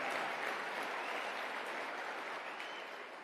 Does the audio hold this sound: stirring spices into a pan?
no